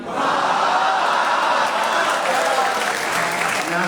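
Audience applause for a recited Urdu couplet at a literary gathering, a dense steady roar of many hands clapping that fills the room and fades slightly at the end.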